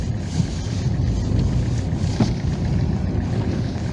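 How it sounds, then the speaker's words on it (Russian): A stuck car spins its wheels and slips, with a steady, loud engine roar and churning noise running unbroken throughout and no voices. "Буксует машина."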